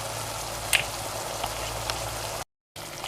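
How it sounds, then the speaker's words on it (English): Chicken with brown sugar simmering in a pan gives a steady, quiet sizzle with a few sharp pops, and the sound cuts out briefly near the end. "now I'm just going to mix it together and let it simmer and cook"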